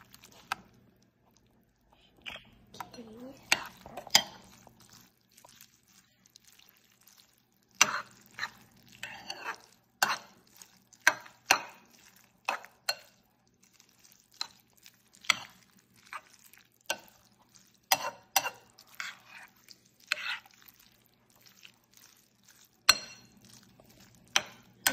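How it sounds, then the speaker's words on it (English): Mac and cheese stirred in a pot, with soft scraping and thick squelching strokes coming in irregular bursts between quiet pauses, close and faint. "now let's mix"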